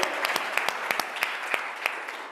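Close, lively applause from a workshop audience welcoming a volunteer to the front, a dense patter of many hands punctuated by sharp individual claps that stays strong throughout.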